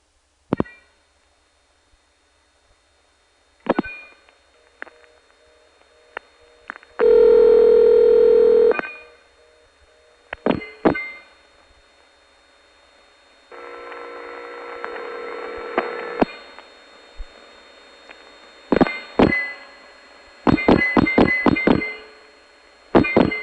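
Suspected ON telephone trunks to York Tandem carry sharp clicks, thumps, bursts of tone and humming line noise, with loud tone blocks and repeated switching clicks across the call.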